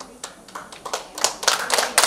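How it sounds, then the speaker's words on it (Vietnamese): Scattered clapping at a ceremony, starting as a few separate near claps and building into quicker, louder overlapping claps from a small audience, with no speech over it. "Chúng ta nhiệt liệt vỗ tay về nhạc sĩ Mạnh Chiến ạ"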